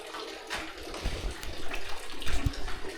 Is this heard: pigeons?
no